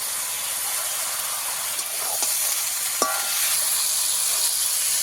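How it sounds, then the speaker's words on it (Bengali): Flat beans with spices stir-fry in a pan, giving a steady, close sizzle and hiss with occasional scraping stirs and light clinks from the spatula. "শিম দিয়েও কিছুক্ষণ কষিয়ে নিয়েছি"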